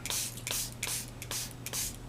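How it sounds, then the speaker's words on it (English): Water and glue mix sprayed onto a dirt road, a close, hissing spray in several short bursts separated by brief pauses, with a low steady hum underneath. "I'm spraying it until I start seeing the white of the glue"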